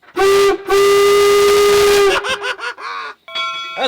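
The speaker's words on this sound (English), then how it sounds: "can I blow the whistle?" A steam locomotive whistle at the Golden Spike site in Utah blows one short blast and then a long, loud, sustained shriek, followed by excited voices exclaiming close by.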